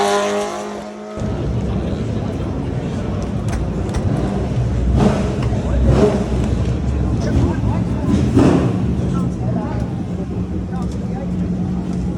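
Classic racing cars at the Le Mans Classic circuit on a hot day, engines roaring past at a distance in a steady wash of noise with swelling pass-bys, a voice talking over it.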